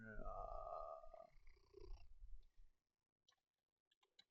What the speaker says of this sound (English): If you hear purring, that's my one cat, Henry, that likes to hang out on my desk